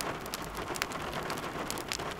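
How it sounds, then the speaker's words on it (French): Steady rain falls outdoors, a dense even hiss with scattered drop patters throughout and no other sounds. "Dehors, il n'y avait aucun bruit, à part celui de la pluie."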